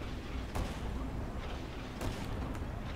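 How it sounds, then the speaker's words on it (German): Explosions and gunfire go off in the Renegade X video game, with a muffled, dense rumble broken by sharp blasts near the start and later, all under continuous noisy game audio. "Ah, in der Tür explodiert."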